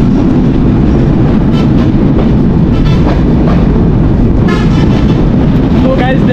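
The Chitra Express passenger train in Bangladesh rumbles loudly along the track after leaving Alamdanga station, with constant low roar, wind buffeting and faint rhythmic clatter from onboard.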